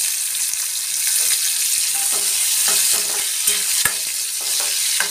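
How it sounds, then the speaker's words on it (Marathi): Tomatoes sizzle loudly in a hot tempering of fried garlic for Maharashtrian dal, with a dense continuous frying hiss and repeated spoon scrapes as they are stirred, close up and with no talking. "टोमॅटो आपला पूर्णपणे मिक्स झाला पाहिजे त्याच्यामध्ये"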